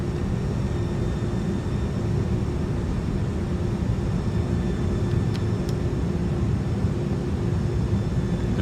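Airbus A300-600 airliner in flight in Microsoft Flight Simulator 2020, a steady, loud, broadband engine and airflow drone that holds unchanged throughout, with a faint brief high tick near the end.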